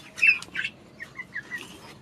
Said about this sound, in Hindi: ये आ गए मेरे बड़े वाले मुर्गी मुर्गा